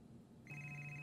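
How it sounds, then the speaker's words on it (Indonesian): A telephone starts ringing partway through, a steady electronic tone that is clear but moderate in level over a faint background hum. "mendadak terdengar panggilan telepon entah dari siapa"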